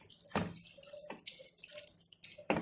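Tap water running and splashing in a kitchen sink while chhena for rasgulla is rinsed, with intermittent bursts, drips and small clinks close by and short quiet gaps between.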